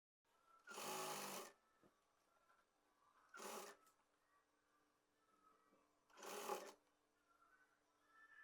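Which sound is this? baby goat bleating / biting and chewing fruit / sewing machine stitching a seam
sewing machine stitching a seam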